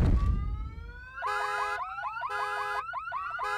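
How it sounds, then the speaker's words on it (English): A cartoon car alarm from The Simpsons blares in a loud cycling electronic wail, repeating warbling tone patterns in several bursts after a low thud, with no talking over it. "He can't do anything right, except setting off car alarms with his big fat footsteps."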